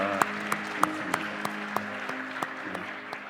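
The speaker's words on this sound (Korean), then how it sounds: "우리 세계 흩어진 선교사님 위해서 우리 박수 한번 하십시다" A church congregation at a Sunday youth worship service claps for missionaries in a slow, even, unison rhythm of sharp claps, about three per second, over a soft sustained musical drone.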